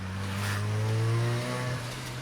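A tuned turbocharged Mazda RX-7 FC driving, with the rotary engine droning as it revs and shifts; the low tones glide and change pitch, loud and close inside the car, no talking.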